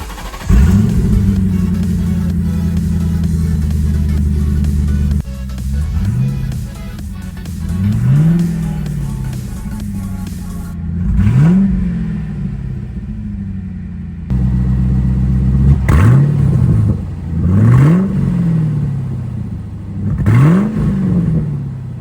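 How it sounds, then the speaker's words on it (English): A 2000 Mustang convertible with a swapped-in GT engine runs without mufflers, loud and close, idling rough and then blipped in a series of sharp revs that rise and fall back, several in a row. "I really want to start this thing without the mufflers on it."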